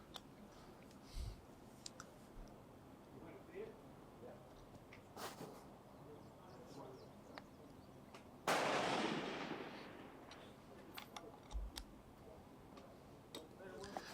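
A single rifle shot in a long-range shooting match cracks out and decays over about a second and a half, standing out from a quiet backdrop of faint scattered clicks.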